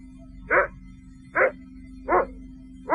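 A dog barks four times at an even pace, each bark short and clear against a steady low hum on a quiet clear night outdoors.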